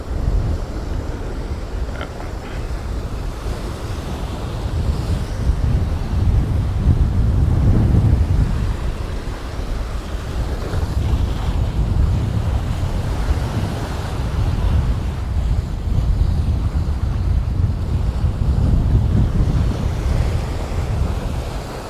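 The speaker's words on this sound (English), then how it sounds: "Get a bit close to the sea. Try not to get my feet wet." Sea waves wash onto the beach at Camp de Mar, Mallorca, in a steady loud surge with rolling swells, while strong wind buffets the microphone throughout.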